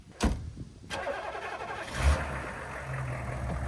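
A Hummer's engine turns over and settles into a mid-pitched idle rumble nearby, with a couple of sharp clunks at the start, short and unaccompanied by speech.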